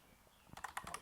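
A computer keyboard typing a command in AutoCAD, a quick cluster of about five or six crisp, close key clicks after a brief quiet pause.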